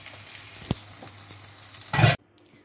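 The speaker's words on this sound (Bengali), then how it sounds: "তাহলে এটাকে আমি এপিট ওপিট করে ভেজে নিয়ে আসতে এসে দেখাচ্ছি।" Poppy seed fritters (posto bora) fry in hot oil, a quiet crackle that sharpens into a brief loud sizzle burst near the end as a fritter is flipped, then cuts off.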